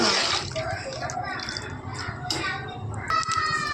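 Water splashes and sloshes as it is poured into rice in a vessel and stirred for vegetable biryani, close by, while voices talk over it.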